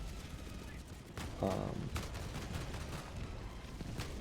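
An autocannon fires in Helldivers 2, giving a few heavy, fairly distant thumps. A bright burst lands near the middle, all under a quiet game soundscape, and someone talks over it.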